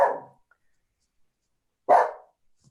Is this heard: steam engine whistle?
no